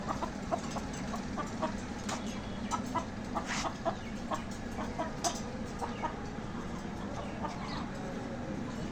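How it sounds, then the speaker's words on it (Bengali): Broiler and Sonali chickens cluck steadily at a poultry market shop. Many birds sound at once in a dense, continuous chorus of close clucks, with occasional louder squawks rising above the flock. "আমি আপনাদের বিভিন্ন ব্রয়লার এবং সোনালী মুরগি দেখাচ্ছি আপনারা দেখতে থাকুন"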